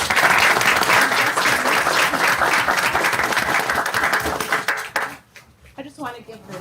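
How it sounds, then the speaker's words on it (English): An audience at a school board meeting gives the kids loud, sustained applause, a dense roar of clapping that holds for about five seconds and then fades quickly into scattered claps and quieter room noise with some voices. "I just want to give the kids a round of applause for coming"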